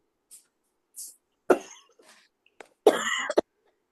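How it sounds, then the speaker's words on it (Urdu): A person suffering from a heavy cold and cough coughs during a lesson, with a couple of short harsh bursts and a longer rough cough near the end, close and alone with no talk. "جی بہت زیادہ نزلہ اور کھانسی ہے"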